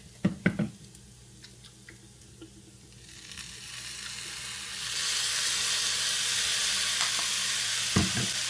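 Soy sauce hitting hot frying rice in a pan for teriyaki chicken fried rice, a few soft clinks, then a steady hiss of sizzling that swells and holds, with a utensil tap near the end.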